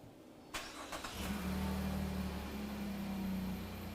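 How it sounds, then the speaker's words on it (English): A car engine turns over with a sharp burst of noise and settles into a steady, loud running hum with a low droning tone, heard close beside an air conditioning service machine. "When he starts the car,"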